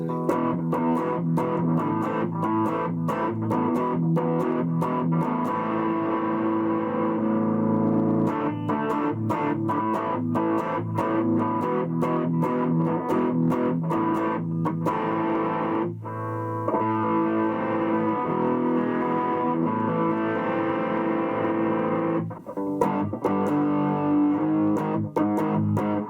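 Electric guitar through a Peavey Studio Pro 112 amp on its gain channel, played loudly with distorted chords and choppy riffs that go on without a break and only briefly pause near the end.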